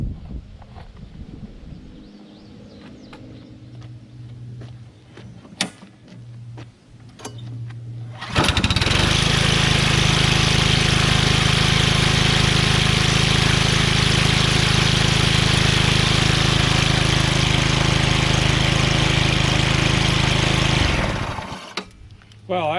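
A small engine, its carburetor freshly cleaned, pull-starts and settles into a loud, steady lawn-mower-like drone that runs continuously for about thirteen seconds before cutting off, after a stretch of quieter handling noises.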